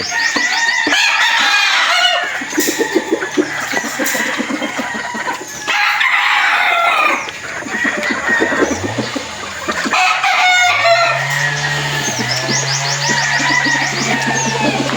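Gilmore gamecock roosters at a game farm crow loudly and repeatedly, several drawn-out cock-a-doodle-doos overlapping with busy clucking and cackling from other fowl, close and continuous throughout.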